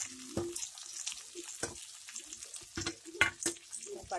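Onions, green chillies and curry leaves spatter and crackle in hot oil for avarakkai tokku, with sharp, irregular pops and bursts over a low sizzle, close and moderately loud, no talking.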